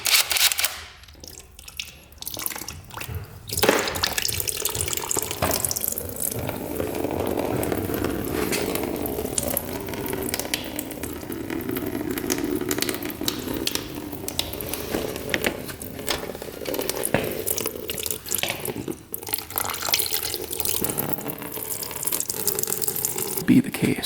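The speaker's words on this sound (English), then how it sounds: "So drain the coolant." Coolant draining from the engine of a dirt bike that has lost compression, a steady splashing stream of liquid running into a container for a long stretch, fairly loud and close.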